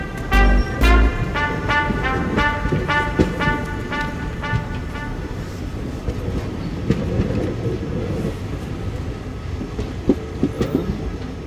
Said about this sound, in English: that train is going to Tanjavur